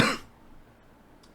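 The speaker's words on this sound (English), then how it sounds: "I'm about to start coughing again." A single harsh cough bursts out close to the microphone, then fades quickly into near silence.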